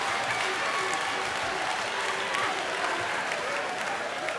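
Steady applause from a comedy club audience during a stand-up set, dense and continuous for several seconds with a crowd wash underneath.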